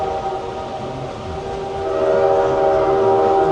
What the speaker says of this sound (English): we have a train on our track and it's coming at us